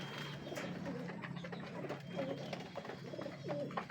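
Pigeons cooing on a rooftop, soft low repeated coos from several birds overlapping at moderate distance, with occasional faint chirps and light background noise.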